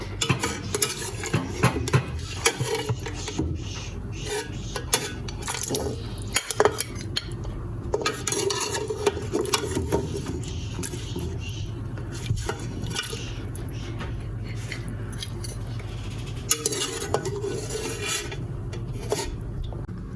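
Steady scraping, clinking and metallic rubbing as boiled mutton is lifted out of a stock pot with a utensil, a continuous busy clatter of metal on metal lasting the whole stretch with no talking.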